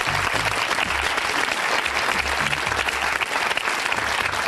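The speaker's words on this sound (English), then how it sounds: "Give yourselves a round of applause." Loud, continuous studio audience applause on a televised Q&A panel program, a dense even roar of clapping that carries on without pause throughout.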